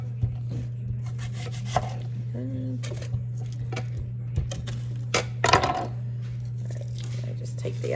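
A knife chops onions and peppers for fajitas on a board, with scattered cuts and a short burst of quick chops under steady talk and a constant low hum.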